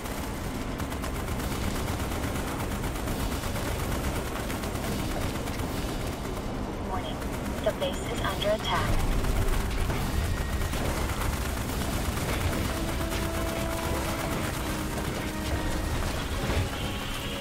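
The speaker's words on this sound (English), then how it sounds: "There's a turret here, a human turret." Turret gunfire in Starship Troopers: Extermination keeps up a dense, continuous rattle amid battle noise, with a voice talking over it throughout.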